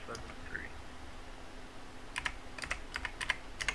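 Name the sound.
typing a six-digit code on a computer keyboard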